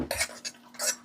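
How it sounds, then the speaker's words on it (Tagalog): A spoon stirs cooked squash (pumpkin) into cat food in a dish. It gives a few quiet, close scraping and clinking strokes in about a second, with no talk. "Ihalo na natin itong kalabasa dito."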